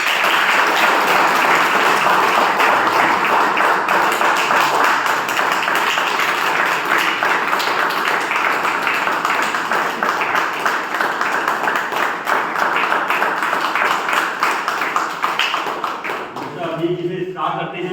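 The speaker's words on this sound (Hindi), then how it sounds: "ताली हो जाए लोगों के लिए।" An audience at a gathering honouring car cleaners in India claps loudly and continuously, a dense crackling applause that thins and fades toward the end.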